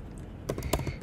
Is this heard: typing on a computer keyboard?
yes